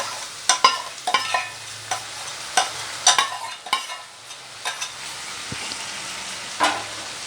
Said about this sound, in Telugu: ఉల్లిపాయలు కూడా వేగాయి, దీంట్లో వేస్తున్నానండి అంతా.